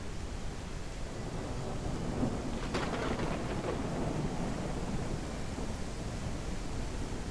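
Steady rain hisses continuously in the city-building game Bastide, with a faint rumble of thunder and a brief crack near the middle, the storm sounding distant and even throughout.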